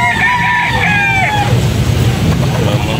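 A chocolate-brown rooster, about three years old, crows once at a busy chicken market in Carbon, Cebu. The loud, drawn-out call fades into a constant crowd and traffic rumble.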